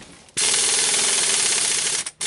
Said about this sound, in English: Alright, we're just going to run this in with an impact.